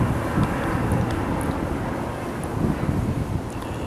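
A fixed-wing airplane passes overhead near a busy airport, a steady broadband roar with low rumble and wind-like hiss that holds at a fairly even, moderately loud level throughout, with no talking.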